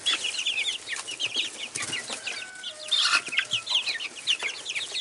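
Chicks peeping close by, with a busy stream of high, quick peeps and chirps overlapping continuously, some clucking, and a few scratchy rustles in between.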